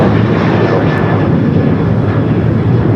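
Boeing 737-800 jet airliner at LAX, bound for Baltimore, making a loud, close, continuous engine roar for a few seconds with no voices.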